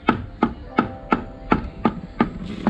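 Headlight of a Royal Enfield Himalayan motorcycle rattling against its base through a small gap: eight sharp, evenly spaced knocks about a third of a second apart, close and fairly loud.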